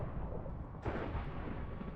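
Explosions in the Minecraft video game: a dense, rumbling blast texture that swells sharply about a second in and keeps roaring as loud, continuous broadband noise, with no speech over it.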